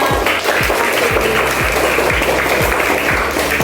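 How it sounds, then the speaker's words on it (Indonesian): A class claps for a classmate, a steady stream of loud applause close by, with low rhythmic thumps recurring underneath throughout. "tepuk tangan untuk teman kita"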